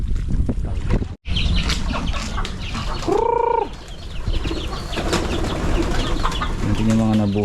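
Chickens that survived a flood cluck and call close by amid busy outdoor noise, with a brief gap and scattered voices around them.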